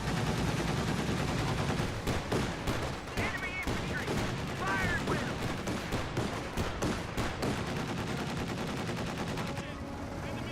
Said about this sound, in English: We do have another M15 firing away against that 223.